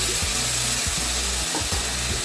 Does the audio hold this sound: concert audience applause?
no